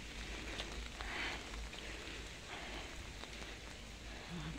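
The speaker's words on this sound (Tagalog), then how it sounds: "medyo makulimlim dito kasi umuulan nga" Steady rain falls outdoors on an overcast day, a continuous even hiss of drops filling the background with no speech.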